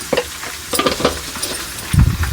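Spices crackle and sizzle in hot oil with turmeric, a tempering for gongura pickle, with a few clinks of stirring and a louder burst of frying near the end.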